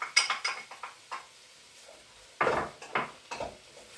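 Chopped onion tipped into a pot for a chicken stew, heard as a few close, sharp clatters and scrapes of a utensil against the pot, with quiet gaps between them and no talking.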